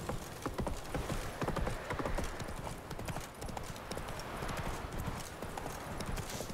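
Rapid, steady clip-clop of a horse galloping in The Witcher 3: Wild Hunt, loud and close, with rhythmic hoofbeats running through the whole stretch and no voices over them.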